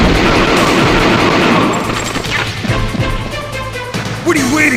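Gunfire in the Metal Gear Solid video game, dense rapid shots and crashes that ease into scattered bursts, with voices talking and game effects layered over them.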